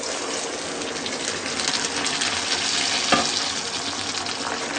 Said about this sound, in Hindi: अब हम इसमें एलोवेरा का पल्प डालेंगे।